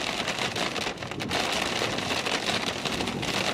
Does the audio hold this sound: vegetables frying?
no